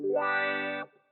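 A single slow reggae chop on electric guitar with a wah-wah pedal pressed down as the strings are struck, sounding a bright, effect-laden chord that sustains for under a second and then cuts off abruptly.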